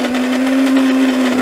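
An electric coffee grinder grinds coffee beans with a loud, steady, high-pitched motor whine that holds one even tone, close up, with no voices.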